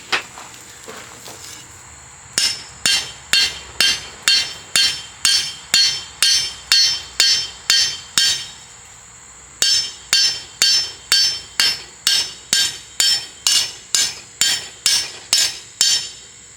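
A hammer strikes a rivet on an anvil in a workshop, ringing metallic blows in two long steady runs of about a dozen each, close and loud with bright clinks, after a short pause between the runs.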